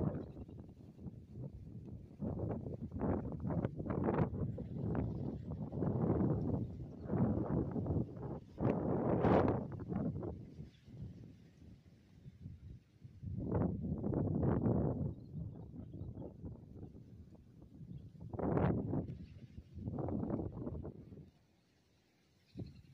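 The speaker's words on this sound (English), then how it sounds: "It's pretty windy." Gusts of wind buffet an outdoor microphone just before sunset, coming in loud rumbling waves that rise and fall with brief lulls, and no speech over it.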